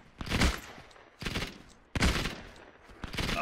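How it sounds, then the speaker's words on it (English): MG42 machine gun fire in the video game Hell Let Loose comes in three loud, rapid bursts separated by short gaps, each a harsh rattling volley close by, with no talking. "we have an MG42 somewhere down there."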